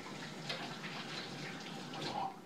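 Hands being washed under a running kitchen tap before mixing kimchi ingredients, a steady close hiss of flowing water with slight splashing, no talking.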